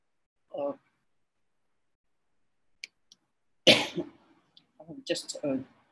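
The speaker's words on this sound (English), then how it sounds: "the cough is getting to me" A single short cough, then silence, then a louder harsh cough and throat clearing, followed by a few spoken words nearby.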